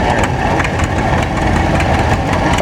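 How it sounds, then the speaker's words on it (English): A 1941 John Deere D tractor on steel wheels runs with a loud, close, continuous engine rumble, steady throughout with no voices. "A 1941 John Deere D on steel wheels."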